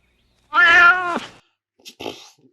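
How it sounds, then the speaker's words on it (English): A cat yowls loudly in a film scene, one long drawn-out harmonic cry followed by a shorter, rougher call after a brief pause. "Bloody cats in films jumping out"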